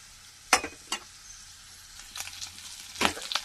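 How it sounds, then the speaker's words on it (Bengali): Prawns are lightly fried in a pan. A quiet background sizzle is broken by a few sharp spatula scrapes and clatters, heard up close. "একটু হালকা ভেজে নিই চিংড়ি মাছটা"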